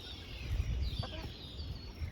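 Soft, faint clucking from a few chickens amid low background rumble, with a brief higher call in the middle.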